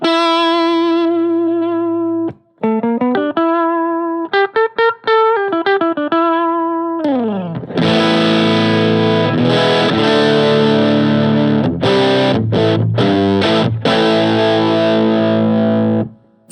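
Electric guitar played through a TC Electronic MojoMojo overdrive pedal: clean-toned single notes and a short ascending run, then loud, sustained, overdriven chords ringing with gritty harmonics, separated by brief muted stops, with no talking.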